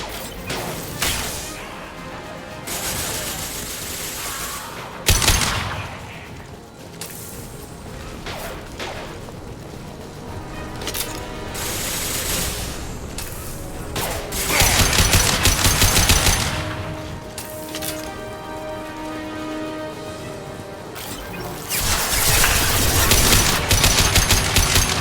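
Gunfire and heavy impact-shot blasts in Mass Effect Legendary Edition: sustained rapid automatic fire with loud bursts and booming impacts recurring through the whole stretch, dense and continuous with no talk.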